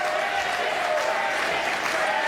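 Crowd applauding for bowler Cryer at a PBA tournament stepladder final, a dense, steady wash of clapping that holds evenly throughout with a faint tonal hum beneath.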